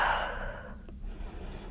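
A single breathy exhale during a beginner yoga movement, a soft close airy rush fading out over about a second.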